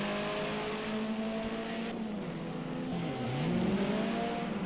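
Evo VI race cars compete in a snow championship at Oschersleben, with a steady, loud engine drone that rises and falls as revs shift. Overlapping engine tones sweep as cars accelerate and pass.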